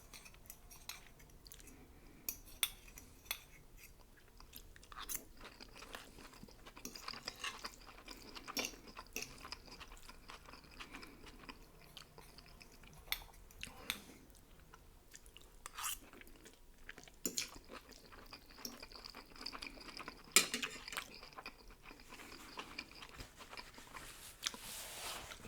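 Close, soft chewing and occasional crunchy bites of homemade pasta with bacon, mushrooms, tomato, Parmesan and onion, irregular mouth sounds at low level with brief quiet pauses and no speech.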